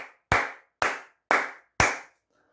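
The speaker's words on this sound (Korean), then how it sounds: "여러분, 이 시점에서 다시 박수 한번 치고 가도록 하겠습니다." Four sharp, evenly spaced hand claps ring out alone in a quiet room, each one loud and close with a short decay.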